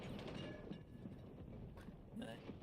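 A train rolls along in the World War I shooter game Battlefield 1, a steady low rumble and rattle of moving rail cars, fairly quiet and continuous, with a brief voice near the end.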